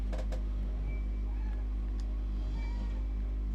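A cat meows close by during a PlayStation game, in faint short calls over a constant low hum and background game noise, with no talking.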